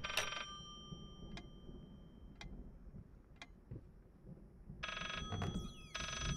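An old telephone bell ringing in the horror video game Layers of Fear, two faint trilling bursts at the start and end with sharp ticking clicks between, all over a low murky room hum.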